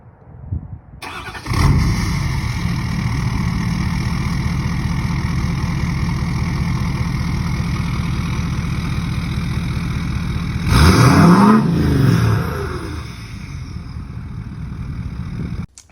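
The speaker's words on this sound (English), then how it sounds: "I do have a clip of his truck after it was running" A Ford F250 Limited pickup truck engine cranks and catches, then idles steadily with a brief louder rev near the end before settling back to idle.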